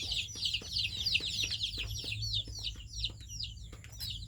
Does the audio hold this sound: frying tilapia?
no